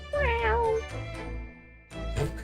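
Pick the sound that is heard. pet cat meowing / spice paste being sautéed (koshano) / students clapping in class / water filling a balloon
pet cat meowing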